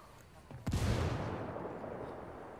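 Frag grenade going off in a tactical shooter match, a single loud close boom that hits suddenly and then rolls into a long fading rumble, with faint chatter from players beneath it.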